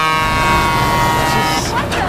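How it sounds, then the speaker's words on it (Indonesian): A truck's air horn blasts loudly and steadily at close range at a rest area in the film Joy Ride 2, its harsh tones sustained for about two seconds. "sebuah truk mengagetkan mereka dengan membunyikan klaksonnya yang kencang"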